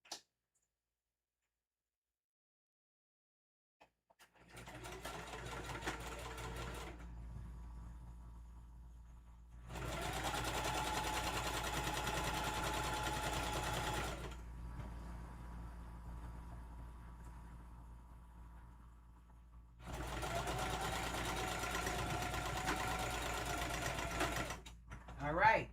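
A sewing machine stitches fabric for a Halloween tote bag in three sustained runs of several seconds each, a fast whirring rattle separated by near-silent pauses.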